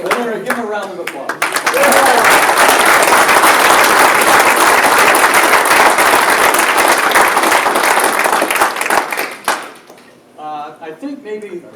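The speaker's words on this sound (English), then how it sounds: "give him a round of applause" Sustained audience applause fills a hall for a coach, dense and loud for about eight seconds before tapering off, with talk before and after it.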